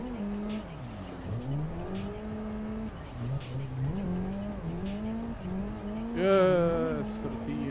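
Car drifting along a mountain road in Assetto Corsa, the engine rising and falling in pitch through repeated slides, with a sharp tire squeal near the end and a person talking over it.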